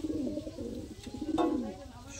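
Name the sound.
Madras racing pigeon cooing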